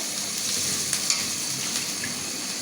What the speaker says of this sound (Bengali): আমি একটু ভালো করে আবার কষিয়ে নেব